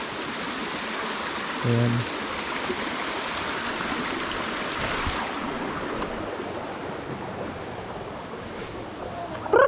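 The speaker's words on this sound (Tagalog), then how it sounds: "Tapos ito naman yung sapa." A murky forest creek flows steadily, with a constant broad rush of water close by, and a brief spoken word partway through.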